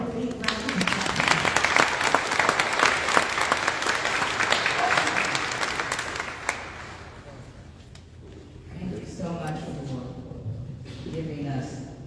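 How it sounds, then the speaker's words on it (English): An audience at a memorial celebration of life gives a 92-year-old woman a big round of applause, dense clapping that lasts about six seconds and then fades, followed by a voice speaking. "Can we please give Karen McCrae, 92 years old, a big round of applause?"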